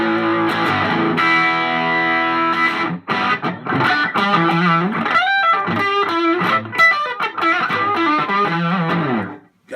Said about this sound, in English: Got that old fuzzy tone to it, distortion.